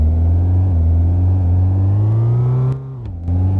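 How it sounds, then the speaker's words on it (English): A car engine hums steadily at a high, revving pitch, the note climbing gradually before dipping briefly and recovering, loud and close with no talking. "you can also just listen to the engine"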